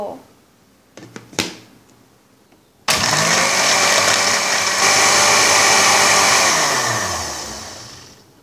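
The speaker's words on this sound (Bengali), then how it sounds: "এবার ঢাকনা দিয়ে ঢেকে ব্লেন্ডার মেশিনে ব্লেন্ড করে নিব" An electric blender whirs steadily at high speed, crushing ice into a lemon lassi made with sugar and lemon juice. It starts abruptly after a few light clicks and runs loud and continuous before slowly winding down.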